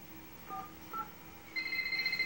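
Telephone keypad tones from a 2005 Peruvian TV commercial: two short separate beeps, then a steadier tone that rises in level and carries on to the end, fairly quiet, with no speech.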